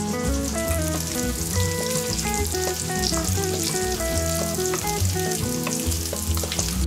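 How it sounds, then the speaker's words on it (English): Bacon fries and crisps in a pan with a steady, close sizzle and crackle, accompanied by a tuneful background throughout. "While the bacon starts crisping up, chop the walnuts."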